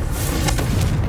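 A short, booming blast from the Confringo fire spell in the video game Hogwarts Legacy: one heavy, rumbling explosion that fills the whole moment.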